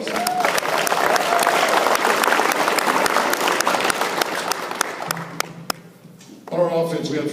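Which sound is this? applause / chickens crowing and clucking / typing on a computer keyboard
applause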